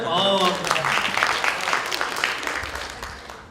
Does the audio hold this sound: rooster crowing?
no